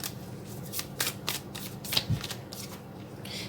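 Tarot cards being shuffled by hand, a run of quick papery riffles and soft slaps at close range, fairly quiet, with no speech.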